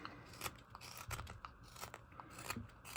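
Knife blade cutting into wood while carving a round mushroom decoration, a string of short dry scraping and crunching cuts at close range, moderately quiet and irregular, with no talking.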